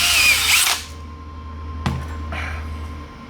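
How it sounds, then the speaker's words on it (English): A power drill runs loud and close for under a second while honing the cylinders of a Honda CB350F engine, then stops, leaving a low hum with a brief knock and faint whirr afterward. "we're honing them out to fit the pistons in"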